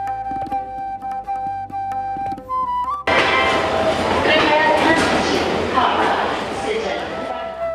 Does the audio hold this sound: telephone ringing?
no